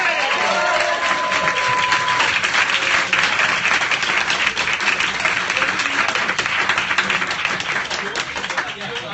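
Crowd at a live performance ring applauds a DJ act, sustained loud clapping from many people with murmuring voices underneath, tapering a little toward the end.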